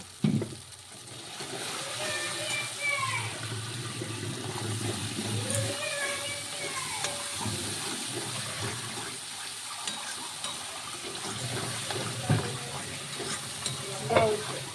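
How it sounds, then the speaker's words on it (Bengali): Spice paste and salt are stirred in a frying pan, giving a steady, moderately faint sizzle with scraping strokes of a spoon against the pan, and occasional soft knocks and brief higher noises in the background. "দিয়ে আবার ভালো করে নেড়ে চেড়ে নেব"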